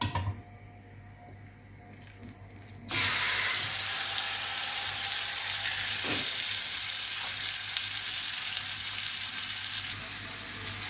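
Chicken pieces dropped into a pan with a tablespoon of oil burst into a loud, continuous close sizzle after a quieter start, the frying staying steady to the end.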